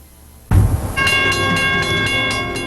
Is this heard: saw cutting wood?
no